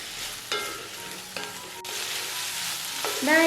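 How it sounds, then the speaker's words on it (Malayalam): Onion and tomato sautéing in a pan for a spicy chammanthi, a steady broadband sizzle with several sharp clinks and scrapes of a stirring spoon, no voices. "തക്കാളിയുടെ ആ ഒരു പച്ച ടേസ്റ്റ് മാറുന്നവരെ നമ്മളൊന്ന് വഴറ്റിയെടുക്കണം"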